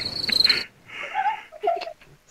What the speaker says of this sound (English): Where are we getting crickets?